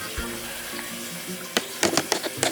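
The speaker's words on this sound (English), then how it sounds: "I'm just washing my hands" Tap water running into a sink during hand washing, a soft steady wash with brief louder splashes toward the end, close by, with faint indoor sounds around it.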